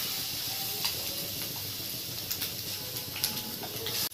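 Eggs frying in oil in a pan for a desi egg masala curry, a steady close hiss and sizzle with small crackles and pops scattered throughout.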